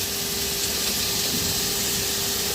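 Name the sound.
data shak greens sizzling as poured into hot frying pan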